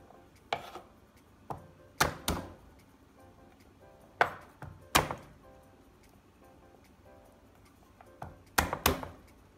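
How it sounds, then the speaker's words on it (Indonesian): Garlic cloves are smashed and then chopped with a very sharp knife on a board, giving sharp, close thuds and knocks in uneven bursts with pauses between, with no talking. "Ini bawang putihnya digeprek lalu dicincang."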